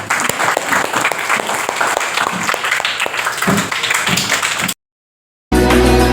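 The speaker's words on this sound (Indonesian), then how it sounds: "tepuk tangan buat kita semuanya" A classroom group applauds at the close of a micro-teaching informatics lesson, dense close clapping for several seconds before an abrupt cut and a brief loud burst.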